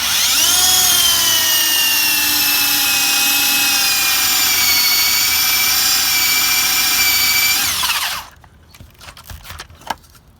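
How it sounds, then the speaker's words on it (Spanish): A power drill bores a hole into wood to make sawdust, giving a loud, steady, high whine for about eight seconds before it cuts out, followed by a few faint knocks and rustles. "a lo que le voy a hacer es un hoyo con el taladro."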